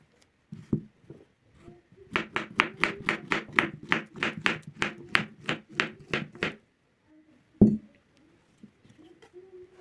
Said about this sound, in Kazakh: Ал мен бананды турап алып, үлкен ыдысқа саламыз.